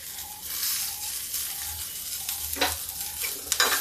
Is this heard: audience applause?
no